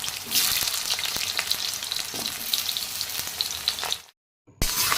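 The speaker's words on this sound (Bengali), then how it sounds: "আলুগুলো দিয়ে দেব আলুগুলো ভালোভাবে ভেজে নেব" Potatoes frying in hot oil in a pan, a dense, continuous close sizzle with occasional stirring clicks, cut off by a brief silence near the end before the frying resumes, no talking.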